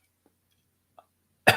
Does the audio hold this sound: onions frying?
no